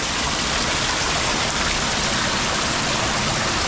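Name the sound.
river flowing in Armenia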